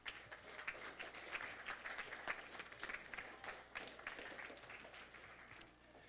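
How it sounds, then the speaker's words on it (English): Church congregation applauding after a closing prayer, steady dense clapping that stays fairly even for about six seconds before easing slightly near the end. "Round of applause."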